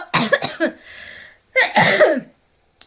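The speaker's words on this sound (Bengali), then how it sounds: "কাশি হয়েছে কি করব" Two harsh, explosive coughing bursts close to the microphone, separated by a brief pause, followed by a faint click.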